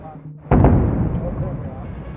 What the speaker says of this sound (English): The sound of a sonic boom has remained the biggest obstacle to supersonic flight since the very beginning.